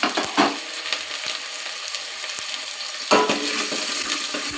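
Sliced green chillies and onions sizzle and fry steadily in a pan, a continuous crackling hiss with a few sharper stirring pops, close and alone with no talk.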